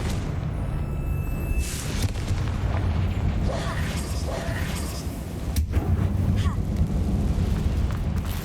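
A Confringo spell in Hogwarts Legacy explodes inside an old mine tomb as a muffled booming burst, with a lower rumble and cave-like ambience trailing after it.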